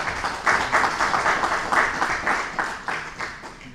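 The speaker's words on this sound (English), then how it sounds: "Give him a round of applause, ladies and gentlemen." At a school board meeting, the audience claps after a budget presentation, several seconds of moderately loud applause with rhythmic swells and some individual claps standing out.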